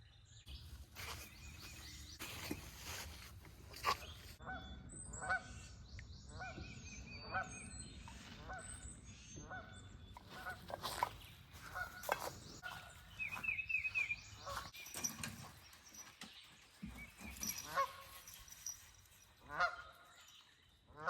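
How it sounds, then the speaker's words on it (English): Geese honk repeatedly in loud, overlapping bursts on a deserted island campsite, with a dog present and rough outdoor background noise throughout. "Can't believe she hasn't lost her mind at these geese."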